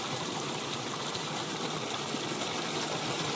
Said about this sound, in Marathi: खळखळणारा छोटासा धबधबा